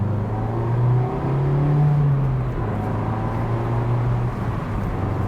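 A Mazda MX-5 facelift roadster is driven steadily, its engine giving a continuous low hum and whir that rises slightly at one point, heard from close by with no talking.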